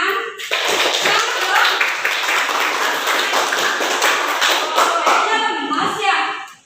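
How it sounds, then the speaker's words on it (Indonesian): Classroom applause for students who answered correctly, many hands clapping together in a dense, continuous patter for several seconds before fading at the end, with a voice coming in near the close. "kita berikan tepuk tangan."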